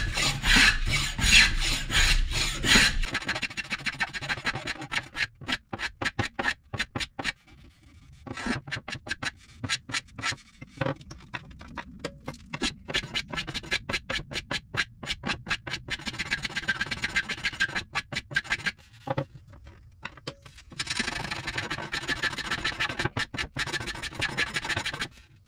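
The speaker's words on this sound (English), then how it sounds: "you're going to take sandpaper to it, and that's a great way to round it out" Sandpaper is rubbed by hand along a wooden bo staff in quick, rhythmic back-and-forth strokes. The gritty scraping is close and steady, broken by brief pauses, with no talking.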